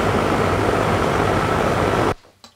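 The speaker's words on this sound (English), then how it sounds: "the sound of an air conditioner." Steady, loud broadband whooshing of an air conditioner running close by, cutting off abruptly near the end, leaving a faint room tone and a small knock.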